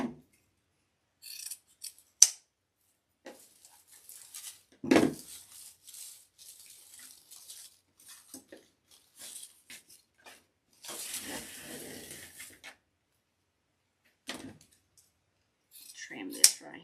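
Scissors trimming an evergreen wreath for a rustic Christmas door decoration: scattered close snips and rustling of branches in short bursts separated by quiet gaps, with occasional faint talk.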